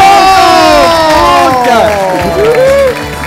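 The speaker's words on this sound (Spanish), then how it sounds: "¡Aplauso!" A crowd at a live event cheers and claps for a performer named Mirko, with shouting voices and whistle-like tones riding over steady, loud applause throughout.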